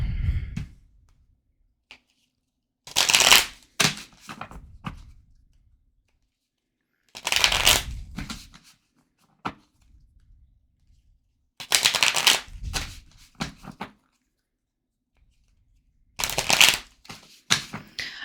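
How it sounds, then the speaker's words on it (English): Cards are shuffled and split in four loud bursts of riffling and snapping, separated by quiet pauses, very close to the microphone. "I know shuffling and splitting the deck is loud in the microphone"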